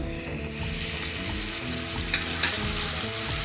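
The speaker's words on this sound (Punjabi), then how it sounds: "ਨਾਲ ਹੀ ਹੁਣ ਆਪਾਂ ਇਹਦੇ ਟਮਾਟਰ ਪਾ ਦਵਾਂਗੇ" Tomatoes dropped into a hot tempering with asafoetida for a pumpkin sabzi, sizzling and frying steadily in the pan with stirring scrapes, close and continuous throughout.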